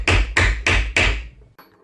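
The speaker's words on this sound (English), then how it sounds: "Take your little hammer, it sets it nice and tight." Four sharp, evenly spaced strikes of a small hammer on a metal setting tool ring out close by while fitting e-bike 18650 battery strips, each with a short ringing decay, then silence.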